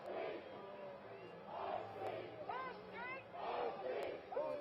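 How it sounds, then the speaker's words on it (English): Protesters chant in rhythmic bursts on a city street near a courthouse square, a crowd of voices rising and falling in repeated waves, heard at moderate distance. "And you can hear people chanting"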